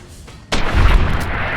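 A single sharp gunshot goes off in Fallout New Vegas, a sudden close blast followed by a booming tail that fades slowly.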